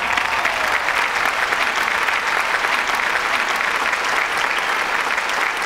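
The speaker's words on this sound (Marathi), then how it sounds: "याच्या दुप्पट टाळ्या आपण विजूमामासाठी पण वाजवूया." Dense, steady applause from a live comedy-show audience in honour of Vijumama, filling the whole stretch at an even, loud level with no voices standing out.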